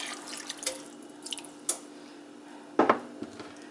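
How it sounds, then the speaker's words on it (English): Water splashes and drips into a frying pan while making stuffed bell peppers, a few scattered bursts with one louder splash near the end, over a steady low hum. "What you're going to do is just add a little tiny bit of water"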